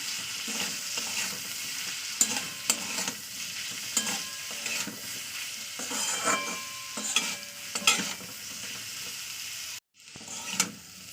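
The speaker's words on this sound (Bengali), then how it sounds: "এটা আবার দু তিন মিনিট নাড়াচাড়া করে নেবো" Lentil paste with turmeric and salt fries in a pan, with a steady sizzle under repeated close scraping stir strokes, a brief drop to silence near the end and then more stirring.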